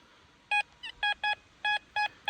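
A metal detector signals over a buried target at an old dugout site: about seven short, clear electronic beeps in an uneven rhythm, with a brief warbling chirp among them, over quiet background.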